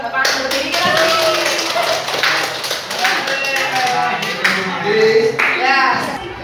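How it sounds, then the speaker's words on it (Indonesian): A classroom audience gives a standing round of clapping for a correct answer, with scattered claps rising and falling over the whole stretch while voices keep talking over it. "Coba kita tepuk tangan berdiri lagi"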